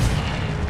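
A burst of the Incendio fire spell in Hogwarts Legacy, a short, loud, booming whoosh that fills the whole moment without a clear start or end.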